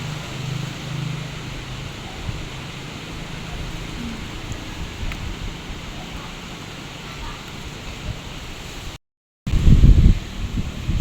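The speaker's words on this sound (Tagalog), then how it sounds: "Pakalakas po ng hangin." Steady gusting typhoon wind rushes and rustles continuously around a house, broken by a brief dropout and a louder thumping burst near the end.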